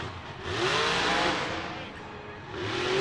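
The Grave Digger monster truck at a Monster Jam arena event, its engine and transmission producing a loud rising and falling mechanical whine and roar with faint crowd noise behind.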